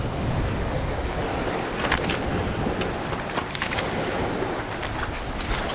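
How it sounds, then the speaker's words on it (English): Strong wind buffets the microphone at a lakeside camp, a constant rough roar with gusty swells and crackling bursts, loud and close, with no voices. "That wind is really annoying me right now."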